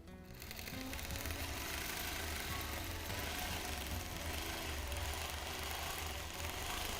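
A long arm quilting machine runs continuously during free motion quilting on stretchy fabric, a dense steady motorized hum and rapid needle chatter that holds level from start to finish.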